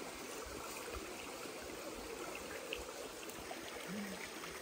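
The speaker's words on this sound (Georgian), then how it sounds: "მე ამდენ საუკუნე ეს წყალი მოედინება" Water running from an old spring in Georgia, a faint continuous trickling stream, steady and even, heard from close by without talk.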